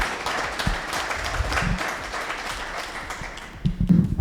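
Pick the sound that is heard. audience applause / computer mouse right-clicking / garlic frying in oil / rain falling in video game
audience applause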